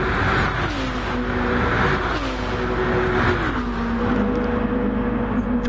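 Race car engines from a PS4 racing video game, a steady high whine with rising and falling pitch sweeps as cars accelerate and shift, continuous and loud with no talk.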